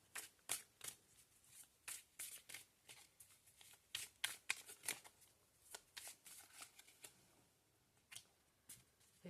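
Tarot cards are handled and drawn close up, a quick run of crisp slaps, flicks and snaps in uneven bursts, fairly faint, with no talking over them.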